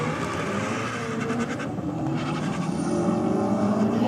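A Honda Civic and an RX-7 drag race down the strip, their engines a loud, sustained roar with rising revs and a faint tire squeal, heard with no talk.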